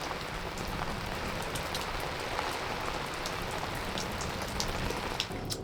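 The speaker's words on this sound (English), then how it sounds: "the rain is pouring down." Heavy rain pours down on an anchored boat in a dense, continuous hiss, with scattered drops pattering nearby.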